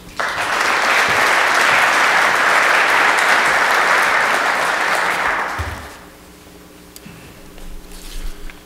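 Sustained applause from an audience at an MBA alumni Thanksgiving gathering, dense and loud for about six seconds before fading into a quiet room with faint shuffling.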